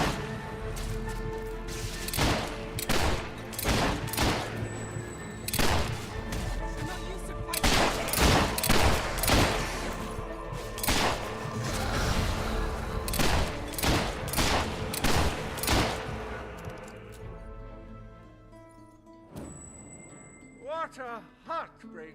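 Rapid bursts of gunfire from the video game Fable 3, loud repeated volleys of shots in dense clusters, pausing briefly before a final short scatter of shots, with game voices over the action.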